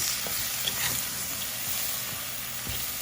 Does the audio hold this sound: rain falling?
no